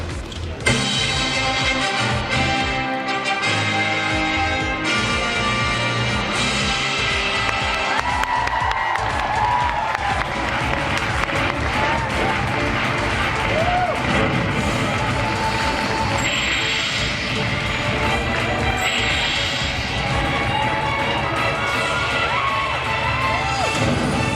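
A large crowd cheers and applauds at the opening ceremony of the Brand and Entertainment Expo 2013 in London, a dense, continuous wall of clapping and shouting with music running underneath throughout.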